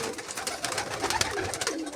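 A flock of pigeons readied for flight coos and rustles continuously, a dense, busy layer of bird sound with no talk over it.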